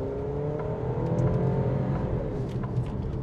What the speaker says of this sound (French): J'y mets les gaz.